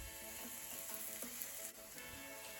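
Gozleme sliding into a pot brushed with oil, giving a soft, steady sizzle of frying dough that stays faint and continuous without any speech.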